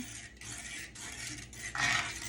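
Jalapeños are stirred around a hot pan, with steady metallic scraping and clinking of a utensil in bursts, ending in a louder stretch of stirring near the close.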